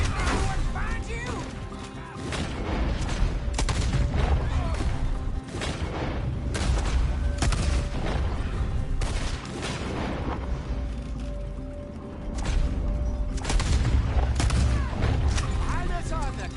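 Rapid gunfire cracks and crashes through a shootout with moonshiners in the game Red Dead Redemption 2, shots coming in dense, repeated bursts with short lulls, loud and close, as characters shout over the fighting.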